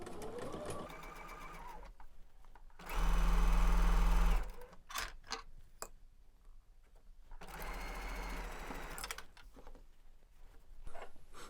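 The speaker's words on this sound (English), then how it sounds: "we're just going to stitch them with 1/4 inch just like we've been doing." Sewing machine stitching a quilt block with a quarter-inch seam, running in two sustained close bursts separated by quieter handling noises, with no talking.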